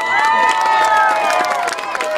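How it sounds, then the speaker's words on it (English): An audience cheers and applauds as a song is introduced, loud crowd screaming and cheering with a sustained high-pitched roar and clapping mixed beneath. "Give him a round of applause."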